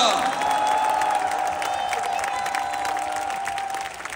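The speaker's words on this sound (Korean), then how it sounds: "박수 한번 부탁드립니다." Audience applause at a Democratic Party presidential nomination acceptance event, honoring two fellow primary candidates, a continuous wash of clapping and crowd noise with a sustained tone running underneath.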